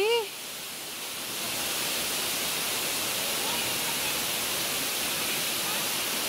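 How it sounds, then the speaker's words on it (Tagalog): Ng Tung Chai waterfall, the highest in Hong Kong, pours as a steady broadband rushing roar that holds constant throughout, with a brief high chirp at the very start. "Tingnan nyo naman yung falls."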